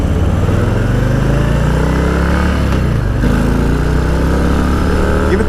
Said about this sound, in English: The stock Harley exhaust, but exhaust upgrade and a cam will give this engine the throaty sound.